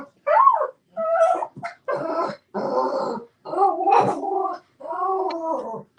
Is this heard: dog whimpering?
yes